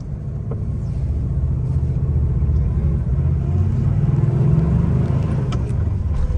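A 1962 Volkswagen Type 3 in ruby red drives along, its engine giving a steady, loud low rumble with road noise that holds constant throughout, heard from inside the car without talk.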